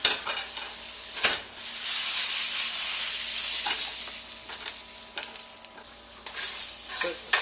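Eggplant sizzles and hisses in a hot wok as it is stir-fried, with steady frying noise and occasional sharp scrapes and clacks of a utensil against the metal, close up and with no speech.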